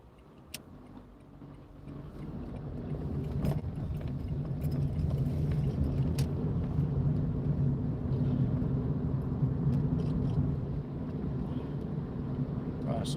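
A car driving along a road at dusk in rain, a steady low engine and road rumble that swells and holds from inside the cabin, with faint ticking and someone talking over it.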